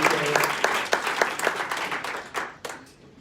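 An audience at a sales and marketing meeting applauds its sponsors, close clapping that thins out and fades to a few scattered claps.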